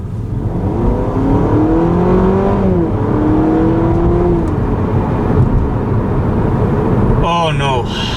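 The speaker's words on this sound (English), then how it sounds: "the only difference I've noticed is that the car screams even more in sport mode" A Honda Civic engine revs loudly in sport mode while accelerating, its pitch climbing in long sweeps and then restarting as the gears change, with people talking over it inside the car.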